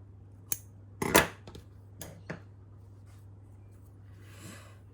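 Scissors snip loose sewing threads off a handmade journal cover, giving a few quiet, close clicks and short snips with pauses between them, alone in a quiet room.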